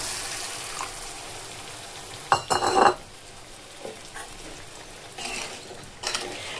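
Water is poured into a pan of spiced fish curry, giving a brief loud splash and sizzle in the middle, with faint scrapes and soft kitchen clatter before and after.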